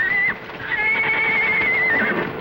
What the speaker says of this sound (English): Sounds like the horses are loose.